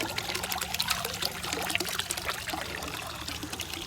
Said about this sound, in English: Pumping stuff up through the waterfall.